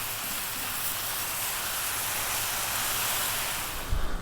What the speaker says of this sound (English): We really want to fry this rice out.